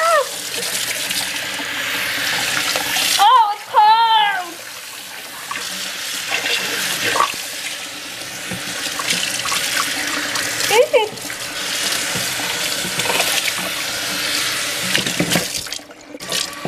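Tap water runs steadily while hair is shampooed to rinse out purple dye, a continuous splashing wash with a voice talking over it at times.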